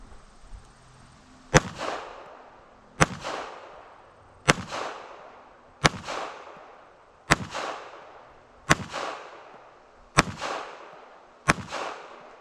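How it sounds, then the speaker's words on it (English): Eight evenly spaced gunshots from a Smith & Wesson M&P EZ 380 pistol at a range, each a sharp crack with a short decaying echo, about one and a half seconds apart, moderately distant. "just going to show you how this gun works, and it seems to work really well"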